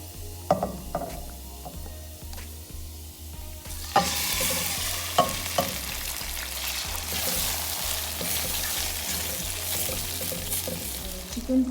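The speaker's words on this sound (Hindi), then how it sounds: "चिकन को 1 कप ऑयल में मैंने अच्छी तरह फ्राई कर लिया है" Chicken fries in a cup of oil for chicken chow mein. A quiet start gives way to a loud, dense sizzle that swells and carries on throughout, with utensil clicks and a steady mechanical ticking underneath.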